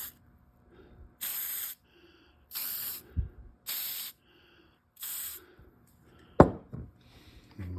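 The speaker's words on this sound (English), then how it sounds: "I'm going to put a couple of spots of this spray-on adhesive" Spray-on adhesive is sprayed onto a filter in four or five short hissing bursts, close and fairly loud, separated by brief pauses, with a sharp clunk near the end.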